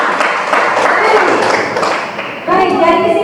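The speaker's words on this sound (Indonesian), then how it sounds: "Tepuk tangan dulu." Clapping from a class or audience during a teaching session, a loud continuous patter of many hands, with a voice starting to speak over it toward the end.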